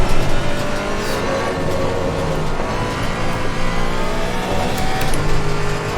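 GT4 race car engines in Assetto Corsa Competizione at Monza, loud and continuous as the cars race close together, with steady high-revving drones, shifting pitch and overlapping engine notes throughout.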